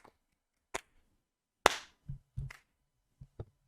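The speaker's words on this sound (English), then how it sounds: "Let's applaud. Let's applaud. Our first episode." Podcast hosts clap for their first episode in a few sharp, scattered claps with gaps between them, close and crisp in a quiet room, and no one speaks.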